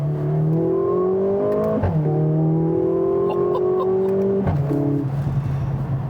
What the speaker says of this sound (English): I think it's about time for me to downshift just a gear or two